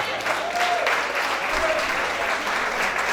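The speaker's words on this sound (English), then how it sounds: "l'autre applaudissement pour représenter le livre." An audience at a fundraising event breaks into a short burst of steady applause, dense clapping filling the room throughout.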